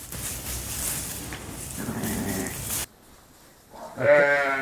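Ewes and lambs in a lambing shed, a loud close bleat near the end after a stretch of rustling, straw-like movement and a brief quiet gap.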